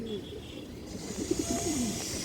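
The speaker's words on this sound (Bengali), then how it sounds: "দর্শক দেখেন বড় সাইজের কবুতর" Large-sized pigeons coo softly in a loft, a series of low, wavering coos rising over a faint background hiss, with a brief higher sound near the start.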